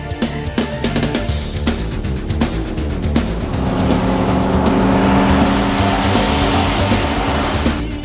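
Car fitted with a 4L80E automatic transmission and a newly installed shift kit drives under throttle, a loud steady engine drone rising in pitch through the gears with tire noise, no talking.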